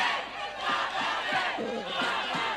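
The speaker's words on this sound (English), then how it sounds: "Then you clap for them" A university event crowd cheers and shouts loudly and continuously, with overlapping voices rising and falling in a dense, sustained roar.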